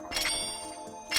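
Bells struck with a chain in Zelda: Ocarina of Time, a few soft metallic dings with lingering ringing tones, fairly quiet and alone.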